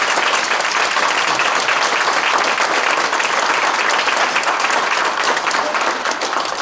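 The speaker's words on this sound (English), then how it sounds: "So let's give them all a big round of applause." Sustained audience applause fills a town hall meeting on suicide as the crowd claps for the panelists, steady and dense from start to finish with no speech over it.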